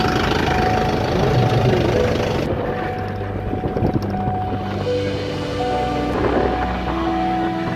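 A Bolero camper's engine runs steadily on a rough mountain road cut into the hillside, a continuous loud drone with rumbling and rattling throughout.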